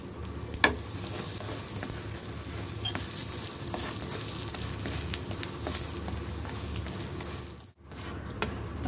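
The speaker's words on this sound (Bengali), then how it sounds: "আবার একটু কড়া করে ভেজে নেব" An egg mughlai paratha frying in a pan gives a steady, even sizzle that goes on for several seconds. A sharp tap comes early, and the sizzle cuts out briefly near the end before resuming.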